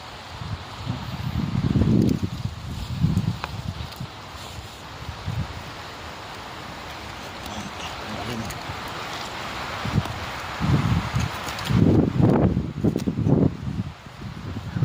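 Steady gusting wind roars across the microphone throughout, with low rumbling buffets and occasional rustling.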